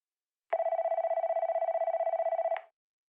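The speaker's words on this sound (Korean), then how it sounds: "그 전화벨 소리는 계속해서 들려오고 있었다" An old-style telephone bell rings in one steady electric trill lasting about two seconds, clean and isolated against silence, then cuts off abruptly.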